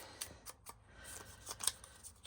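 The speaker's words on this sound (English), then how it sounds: "just take my scissors and snip" Scissors snip a small piece of paper in a quiet room, a series of faint, crisp clicks and cuts spaced irregularly over a couple of seconds.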